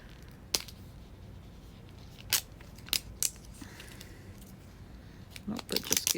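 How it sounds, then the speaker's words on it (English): Plastic toy packaging being opened: scattered sharp crackles and snips of plastic, a few louder bursts and a cluster of rustling toward the end, over a faint background. "I absolutely hate opening this plastic."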